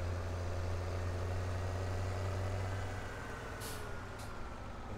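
Farm tractor in a realistic farming game, driven steadily at low speed while pulling a plough, a loud continuous low engine drone with faint hiss bursts near the end, no talk.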